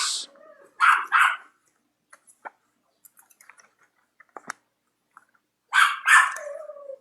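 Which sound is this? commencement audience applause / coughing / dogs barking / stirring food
dogs barking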